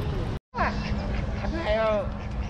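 Geese at a farm honking nearby in a short flurry of nasal calls, mixed with a background voice and the general noise of the farm.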